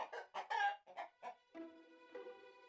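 A hen in a children's fairy tale about a giant and golden eggs clucks in a quick run of short, rhythmic bursts, followed by a steadier, sustained tone.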